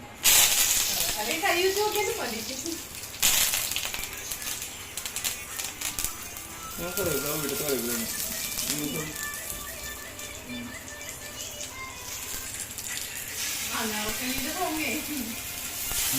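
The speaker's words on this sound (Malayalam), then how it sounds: "എണ്ണ ചൂടായെന്നറിയാൻ ഒരു കറിവേപ്പിലിട്ട് നോക്കും" A curry leaf dropped into hot frying oil for a Kerala-style Kannan fish fry gives a crackling sizzle that hisses on and off over a steady fry noise, with a voice talking over it.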